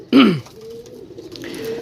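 Pigeons for sale in Sarai Alamgir give one brief, close, throaty coo, then quieter low murmuring in the background.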